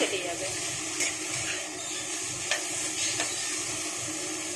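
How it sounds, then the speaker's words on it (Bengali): Okra frying in a little oil in a wok, a steady bright sizzle running throughout with a few sharp stirring clinks and scrapes, close and moderately loud, and a voice faintly talking in the background. "কড়াইতে একটুখানি তেল দিয়ে দিয়েছি। ভেন্ডিটাকে একটু ভেজে নেব"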